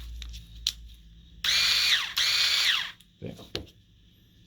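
Hand-held electric bottle capper, plugged into a regular socket, whines in two short high-pitched bursts of roughly a second each, close and loud, with a brief spoken word and handling knocks afterward.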